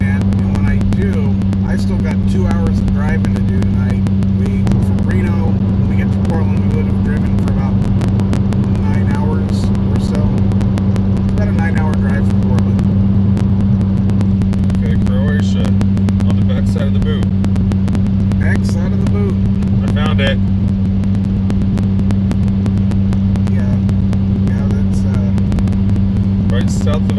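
A car cruising on a highway at night, heading home from Reno toward Portland, its steady engine and road drone loud and constant throughout while people talk over it.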